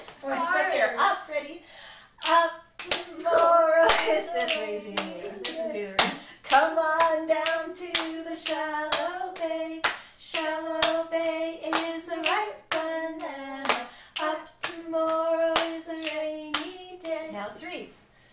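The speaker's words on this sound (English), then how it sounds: "Lap, clap, snap, lap." Children in a youth singers group play a clapping game, patting laps, clapping and snapping in a steady repeating pattern, sharp close hand strikes layered with sung and spoken children's voices throughout.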